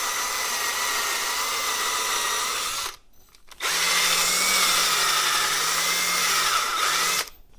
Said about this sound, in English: I'm also taking some Scotch-Brite on the valve just to clean it up a little bit